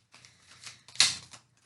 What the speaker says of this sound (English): So let's do one more shuffle and get into our reading.